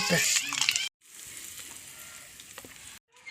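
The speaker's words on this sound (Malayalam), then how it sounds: "കടുക് പൊട്ടിക്കാൻ ചട്ടി വെച്ചത് എണ്ണ ഒഴിച്ചു" Mustard seeds spluttering in hot oil in a pan, a close crackling sizzle with scattered pops that drops out briefly twice, with a voice over the start.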